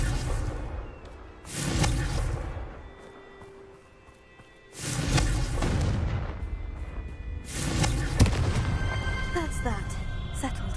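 Confringo blasting spell explosions in a Hogwarts video game on PS5, several heavy booming blasts with rumbling tails separated by brief lulls, loud and close.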